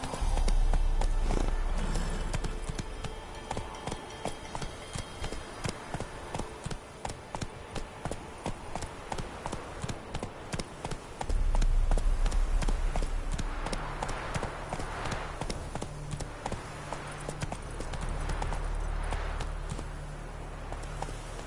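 A horse gallops in the video game The Witcher 3: Wild Hunt, with a steady, rapid clip-clop of hoofbeats that runs throughout and briefly grows louder partway through.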